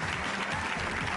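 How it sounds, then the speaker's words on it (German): A theatre audience at a magic show gives steady, dense applause for an assistant named Nicole, a brief close burst of clapping filling the room. "Ein kräftiger Applaus für Nicole"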